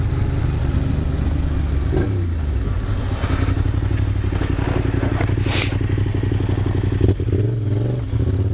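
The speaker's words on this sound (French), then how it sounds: "Oh des motos." Motorcycles pass on a winding mountain road in the Cévennes, their engines a loud continuous buzzing drone that rises and falls with revving over the steady noise of a moving vehicle.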